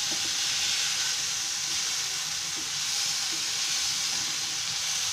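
Vegetables cook in a lidded pan for a homemade tawa pizza, giving off a continuous close hiss of steam and sizzle that holds steady throughout, with no voices.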